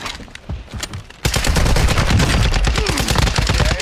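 Sustained automatic gunfire erupts in Call of Duty Warzone DMZ after a quieter moment, a loud, close, rapid stream of shots that continues to the end.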